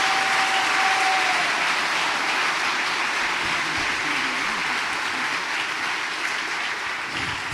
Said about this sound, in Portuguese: Quem crê nessa palavra, dê uma salva de palmas ao nosso Senhor.